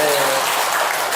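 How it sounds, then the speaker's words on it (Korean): Audience clapping at the opening of Cheonghwa Buddhist College at Gwangryunsa temple on Dobongsan, a brief loud wash of applause mixed with crowd voices. "박수 한번 칠까요?"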